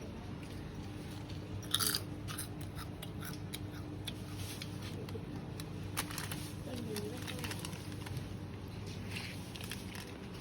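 Crispy fried fish skin is chewed close to the microphone. The bites are soft and crunchy and stay faint against a steady background hum, with one sharper crunch early on.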